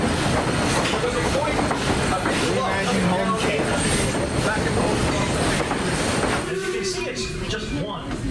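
Steamtown steam excursion train on the Carbondale run, heard from aboard as steady wheel rumble and clickety-clack on the rails, loud and continuous throughout, with the noise shifting near the end.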